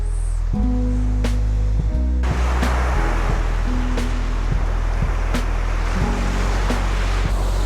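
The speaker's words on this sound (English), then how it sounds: "the noise of the waves and stuff is just, I don't want that in my audio" Steady roar of ocean surf with gusty wind buffeting the microphone, a constant broad wash of noise with low rumbling swells and no voices.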